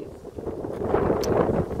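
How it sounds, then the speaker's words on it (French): Strong wind buffeting at the Sanary-sur-Mer harbour, a continuous low rumbling roar with gusty swells and faint rustle, no talk. "comme vous voyez, toujours beaucoup de vent"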